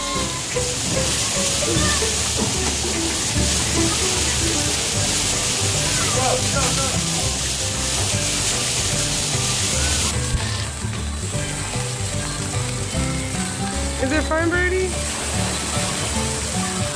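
Water pours steadily from a bucket waterfall at a water park, a continuous loud rushing splash that lasts throughout, with people talking over it.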